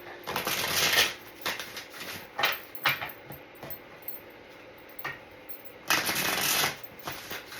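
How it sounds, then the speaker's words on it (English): Tarot cards are shuffled in several quick riffling bursts with short pauses between them, crisp and close, with a few soft taps in the gaps. "go ahead and shuffle"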